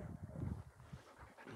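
A mixed-breed dog at a dog training school pants quickly and close by, a soft, breathy rhythm with a faint whimper, and no talking over it.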